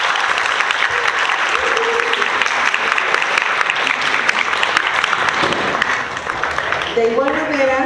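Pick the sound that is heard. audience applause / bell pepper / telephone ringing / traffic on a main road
audience applause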